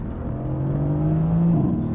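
A 2016 Mercedes-AMG GT S in race mode gives a loud, steady low engine drone with a sustained tone that shifts slightly near the end, close and dominant.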